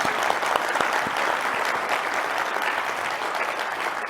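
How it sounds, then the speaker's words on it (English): An audience at a conference mainstage applauds a speaker, a steady, dense roar of many hands clapping at even loudness throughout. "Let's give Amanda another round of applause"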